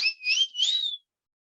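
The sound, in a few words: whistle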